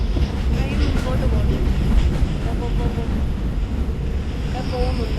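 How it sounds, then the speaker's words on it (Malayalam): A train engine running in a video game, heard as a steady, loud mechanical rumble with faint rhythmic clacking that continues without a break throughout. "നിങ്ങൾ എഞ്ചിൻ ഓൺ ആക്കിയിട്ട് നിങ്ങൾ നേരെ ചെയ്തെടുക്കുക. ട്രെയിൻ മുമ്പോട്ട്"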